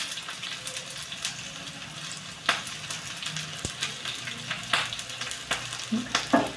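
Red and green chillies frying in hot oil for kande pohe, a steady crackling sizzle broken by stirring scrapes and sharper spits, close and moderately loud with no talk.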